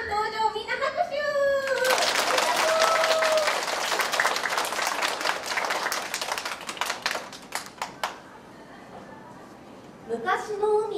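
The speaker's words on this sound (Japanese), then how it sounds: "デメちゃん登場、みんな拍手。" Kindergarten children applaud during a picture-story show: a burst of brisk clapping starts after a few seconds, thins into scattered claps and fades, with an adult voice speaking before and after.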